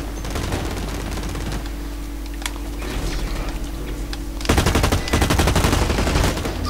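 Automatic gunfire from the video game Blacklight: Retribution rattles continuously over game ambience, turning into a denser, louder rapid burst near the end, with no talk.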